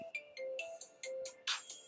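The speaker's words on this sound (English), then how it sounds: "That's my ringtone" A phone ringtone plays a bright, chirpy electronic melody of short repeated tones, fairly faint and with no voices over it.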